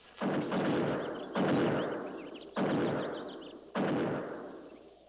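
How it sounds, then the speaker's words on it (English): Buffalo guns fire four heavy booming shots at even intervals, each one loud with a long echoing decay across open country. "Buffalo guns. That's one sound they can't muffle."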